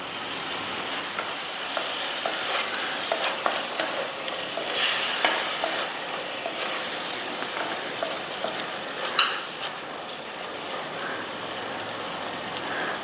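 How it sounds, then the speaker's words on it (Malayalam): Tomato masala for Kerala-style tilapia meen pollichathu is sautéed in a pan: continuous soft sizzling with repeated spatula scrapes and stirring clicks, close and moderately loud, no talk. "ഇനി നല്ലോണം വഴറ്റി കൊടുക്കണം. തക്കാളിയുടെ പച്ചച്ചവ ഒന്ന് പോകണം"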